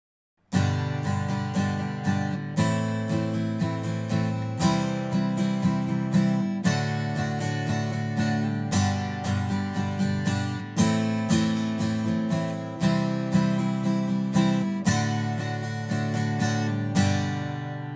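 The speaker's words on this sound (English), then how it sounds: "I'm going to play the first strumming pattern for you" Steady acoustic guitar strumming, a basic down, down, up, down, up pattern of full chords played close and clear, with no voices.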